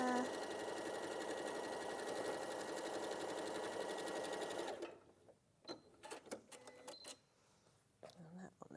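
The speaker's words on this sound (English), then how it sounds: "I'm just going to sew that on the top of there" A sewing machine runs steadily and fast, stitching fabric for about five seconds before stopping, then short clicks and handling noises follow while a person talks.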